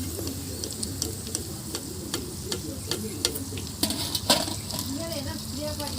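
Food deep frying in hot oil in a home kitchen, a steady soft bubbling sizzle with occasional stirring clicks, and faint bird cooing in the background.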